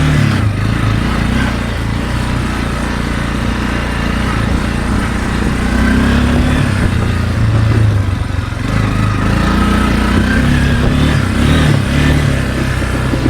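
A cheap four-wheeler ATV with its carburetor turned way up drones steadily and loudly throughout while being ridden, straining without shifting into high gear, with a constant low engine rumble and slight rises in pitch.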